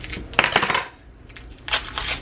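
A knife cuts through butter on a board in a home kitchen before onions are sautéed, giving a few short, close clicks and taps spread over a couple of seconds.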